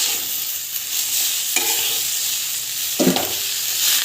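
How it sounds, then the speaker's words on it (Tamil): Dried red chillies and mint leaves sauté in a hot pan, giving a steady bright sizzle with occasional stirring scrapes, close and continuous, no voices. "காஞ்ச மிளகாய் வந்து ஆட் பண்ணிக்கிறோம். நல்லா வதங்கிட்டோம். ஸோ புதினா வந்து ஆட் பண்ணிக்கலாம்."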